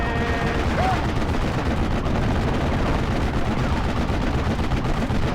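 Dense battlefield gunfire in the WWII strategy game Steel Division: Normandy 44, with infantry engaged near hedgerows: a loud, continuous roar of rifle and machine-gun fire mixed with distant artillery-like rumbles.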